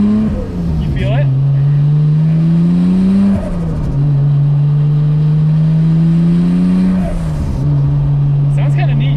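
A Nissan R34 GT-R fitted with titanium intakes is run at wide open throttle, its engine droning loud and close from inside the car, climbing in pitch and dropping sharply at each of two gear shifts.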